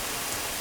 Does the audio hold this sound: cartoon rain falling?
yes